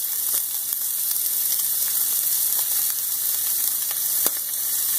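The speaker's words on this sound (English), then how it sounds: "Be careful, this pan is extremely hot and the oil will pop at you" Shrimp frying in a very hot pan of oil, a steady close broadband sizzle with scattered sharp pops and crackles throughout, no voices.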